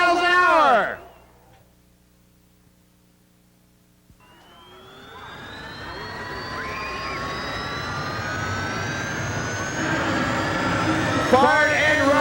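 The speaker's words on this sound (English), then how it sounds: "Fired and running, ladies and gentlemen, the world's only gold-plated jet dragster, Jerry Hot Rod Siegel." A gold-plated jet dragster fires up at a 1986 drag racing event. After a brief voice and a quiet pause, a loud jet roar and rising whine build steadily and hold, close and powerful.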